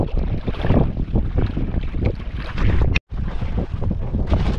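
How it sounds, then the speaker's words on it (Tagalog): Strong northeast monsoon wind blows across a fishing boat at sea near fish traps, a steady loud rush of wind and water noise with buffeting on the microphone, briefly cutting out near the end. "Medyo malakas-lakas ngayon ang amihan."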